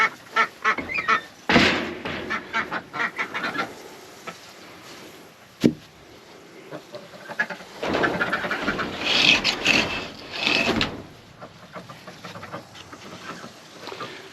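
Ducks on a farm quack in bursts, some close and some more distant, with scattered bouts of calls, a sharp knock partway through and a busy stretch of overlapping quacking near the end.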